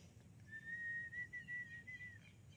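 A single person whistles a soft sustained tone that glides slightly, faint and alone over quiet background hiss.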